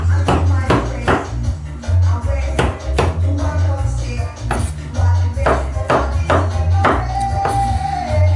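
A knife chopping St. George's mushrooms into thin slices on a board, a steady run of crisp, close taps at roughly even intervals over a low background hum.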